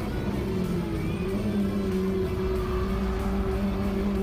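Race car on a fast qualifying lap at the Lausitzring, engine droning loud and steady with a sustained high-revving tone heard from onboard, no voices over it.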